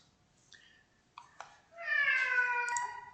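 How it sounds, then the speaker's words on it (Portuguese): A cat meows once, clear and drawn out, with a rising then falling tone, after a few faint clicks in an otherwise quiet room. "E o gato miou de novo."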